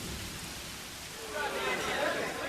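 Rain pours steadily during an evening storm on the frontier, a dense hiss that swells a little louder midway, with a voice speaking faintly beneath it.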